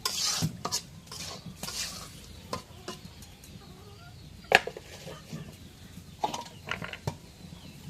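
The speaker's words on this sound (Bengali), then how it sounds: "এখন মাছগুলো একটু কষায় নিই।" Tangra fish with potato and eggplant stirred in spice masala in a pan, a spoon scraping and clattering in irregular strokes with sharp knocks over a low sizzle, no talking.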